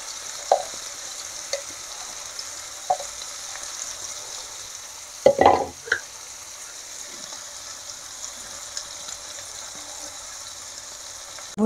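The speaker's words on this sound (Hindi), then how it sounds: "भुन गया प्याज" Onions frying in a pan during home cooking: a faint, steady sizzle hiss throughout, punctuated by a few sharp spoon taps against the pan and a louder burst of stirring and scraping midway.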